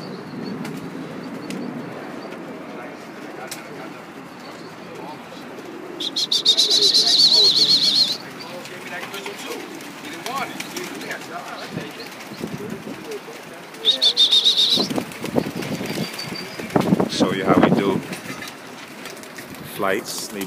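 Tippler pigeons released from a loft in the Bronx, New York, burst into flight in two loud bursts of clattering wing flaps against quiet outdoor background noise.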